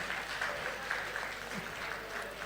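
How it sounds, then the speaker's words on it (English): An audience at a stakeholder engagement forum claps in a steady round of applause, a dense crackle of many hands at moderate distance that holds level throughout. "Please, a round of applause for her."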